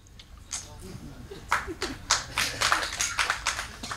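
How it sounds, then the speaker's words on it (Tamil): One or two people clapping at a press meet, a handful of sharp, uneven claps close by that grow steadier toward the end, with speech running underneath. "இப்படி ஒருத்தர் 2 பேர் கைதட்டுறீங்கல்ல,"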